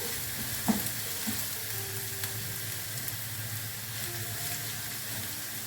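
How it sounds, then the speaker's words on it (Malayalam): Onions sizzle steadily in a hot pan while cooking for a Kerala chicken thoran, a continuous close frying crackle with a few louder pops and no talking. "ഉള്ളി മൂത്തോണ്ടിരിക്കുന്നു."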